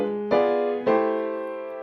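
Piano playing drop 2 voicings, two sustained chords struck about half a second apart, each ringing out cleanly and decaying alone, fairly soft.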